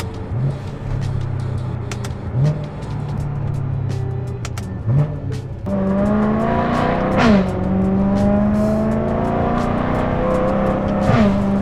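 A BMW M3's exhaust blares loudly as the engine revs drop and climb through repeated gear changes in M mode, with sharp blips at each downshift and rising drone afterward.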